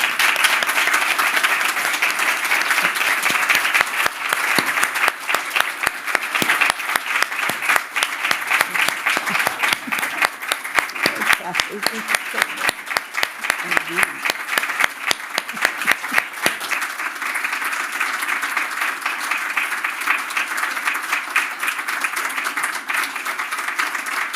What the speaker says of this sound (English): giving her a standing ovation and thanking her for what she's done for Carlow